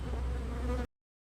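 Honeybees buzz steadily around an abandoned hive, a dense close insect drone holding for under a second before cutting off abruptly.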